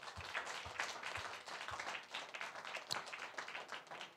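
A church congregation claps in praise to God, quiet and somewhat distant, with a handful of individual claps standing out over a soft continuous patter.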